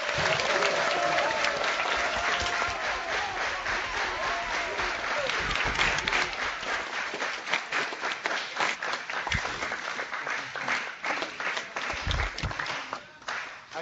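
Students in Manassas Park applaud Pro Football Hall of Famer Steve Largent, the clapping loud and full at first, then thinning into more separate, uneven claps.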